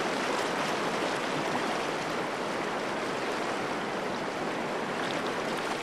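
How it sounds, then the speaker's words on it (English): Easy Class 2 rapid where a Wisconsin river spills over a natural bedrock ledge, a steady broadband rush of churning water, constant and fairly close, with no voices. "a natural ledge in the bedrock that produces an easy Class 2 rapid"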